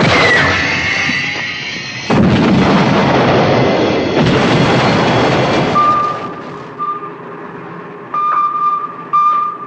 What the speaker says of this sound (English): Warfare on the high seas.